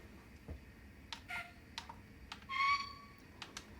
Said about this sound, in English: So we'll start off with the whistles